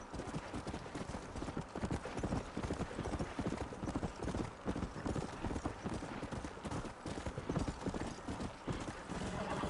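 A replacement horse in Red Dead Redemption gallops with rapid, continuous clip-clop hoofbeats close up and moderately loud, with neighing mixed in and a little speech faint in the background.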